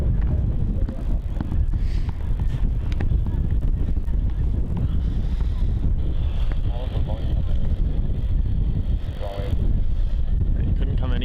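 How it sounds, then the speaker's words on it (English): Wind buffets a microphone outdoors at Melbourne Airport in Australia, a dense, continuous low rumble lasting the whole stretch, with faint voices now and then. "This wind is getting to me"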